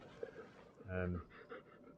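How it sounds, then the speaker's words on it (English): A dog named Steel pants on a mild July day in Britain from overstimulation rather than heat, rapid breathy pants close by and under a voice talking. "See this panting?"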